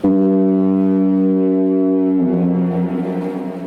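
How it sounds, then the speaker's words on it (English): Powerful foghorn at the Clock on the Clyde, opposite Dunoon, blasting a loud, sustained tone that drops abruptly to a lower note, two long notes in quick succession with no voices. "this horn was disruptive. It sounded 2 notes of 2 seconds each in quick succession, high, low, every half a minute."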